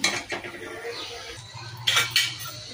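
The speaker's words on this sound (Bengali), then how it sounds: "সামান্য ফিফটিন সেকেন্ড নাড়াচাড়া করে নিচ্ছি" A utensil stirring grated ginger with foxtail millet and lentils in a pot, for a vegetarian millet khichuri, giving close scraping and clinking scrapes with a couple of louder clinks near the end, no talk.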